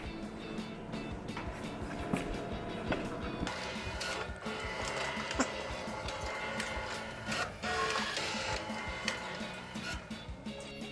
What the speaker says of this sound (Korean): 이렇게 출력을 누르면 다음에 이제 프린터에서 출력물이 나오는 것을 확인을 합니다